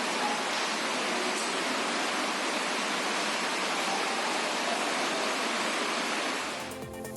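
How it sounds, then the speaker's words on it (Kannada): Heavy monsoon downpour in Karwar, coastal Karnataka, a dense, steady roar of rain that holds loud and unbroken for several seconds before thinning briefly at the end, with no voices. "ಕಾರವಾರದಲ್ಲಿ ಮಳೆಯ ಅಬ್ಬರ ಜೋರಾಗಿದೆ"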